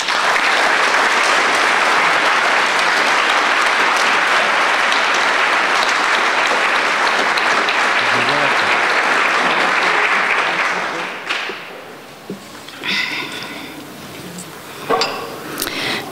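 Warm audience applause welcomes poet Suzanne Batty at a reading, loud sustained clapping that fades out after about eleven seconds, followed by a few faint clinks and quiet room noise.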